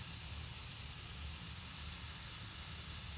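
An airbrush sprays a dark paint mix onto a shark painting, giving a steady, close, continuous airy hiss that holds level throughout with no talking.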